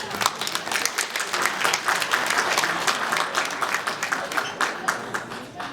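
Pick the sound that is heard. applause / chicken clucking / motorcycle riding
applause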